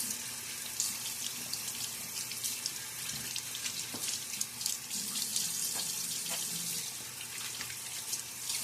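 Tap water runs steadily into a sink during a wet shave, a continuous close splashing hiss with small bumps and drips where hands or a razor dip into the stream.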